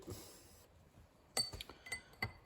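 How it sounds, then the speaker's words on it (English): Hub bearing on a Ford/New Holland tractor front hub being tapped into place, a few sharp metallic clinks and taps, faint and spaced out, after a quiet start. "You want to hear the impact like that on each quarter, so you know that the whole bearing is sitting square."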